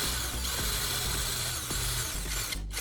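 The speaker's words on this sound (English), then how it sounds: "It cuts through the metal like butter." A power drill whirs steadily, grinding into a metal bar with a harsh, continuous mechanical drone and a brief change in pitch near the end.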